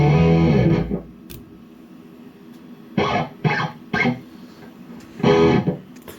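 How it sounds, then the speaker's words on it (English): Distorted electric guitar recorded through a Celestion Greenback 20 speaker miked at the edge position, no EQ, with a ringing chord fading out, then a few short choppy stabs and a final burst. "you actually hear what the Celestion Greenback 20 sounds like when recorded in the edge position."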